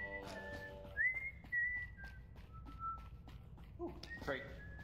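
Whistling in the video game Lockdown Protocol, a few thin sustained tones and short glides at moderate level over faint background noise and light movement sounds.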